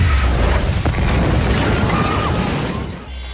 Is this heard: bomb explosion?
yes